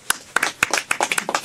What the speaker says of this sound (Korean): 언제까지 박수를 셀프로 치는 거야?